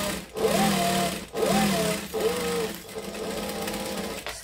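A close sewing machine backstitches at a 2.5 stitch length in short loud bursts of whirring, pausing briefly between reversals before a longer steady run.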